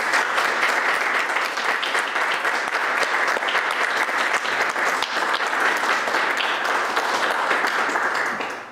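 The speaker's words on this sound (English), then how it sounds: "I just want to ask you to join me in applauding our new newest deacons, Jim and William." A church congregation at a Catholic diaconate ordination applauds the newly ordained deacons, a full, dense and sustained ovation of many hands at steady loudness that tapers off at the very end.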